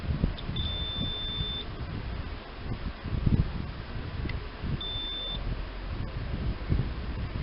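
Two short high electronic beeps sound from a multimeter on continuity test while diagnosing a short circuit, one near the start and one later, over faint rustling background noise.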